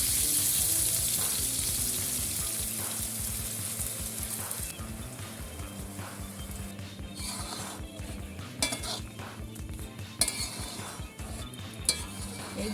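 Mango pieces cooking in a pan with strained jaggery, stirred steadily with a utensil that scrapes and clinks against the metal over a soft bubbling sizzle, with a few louder knocks near the end.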